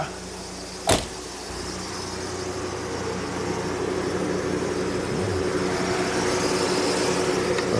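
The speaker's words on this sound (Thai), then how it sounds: "ฟังเสียงเครื่อง" A two-door car engine idles with a steady low hum after a sharp click near the start. The engine note rises slightly toward the end.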